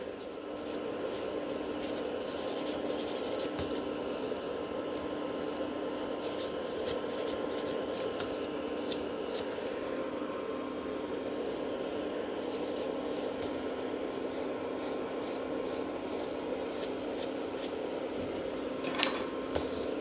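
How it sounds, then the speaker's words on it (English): Nail buffer rubbing back and forth over a gel-coated almond fingernail during a glitter ombre rebalance, a steady close abrasive swishing that continues without pause. "going over them with the buffer"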